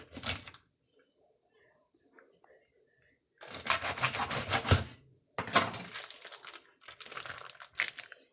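A plastic-wrapped package of pork loin is cut open close by, giving several loud bursts of crackling, crinkling plastic separated by near silence.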